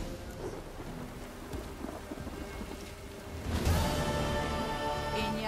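A thunderstorm with steady heavy rain in The Witcher 3: Wild Hunt, with rain drumming continuously and a loud rolling thunder swell partway through.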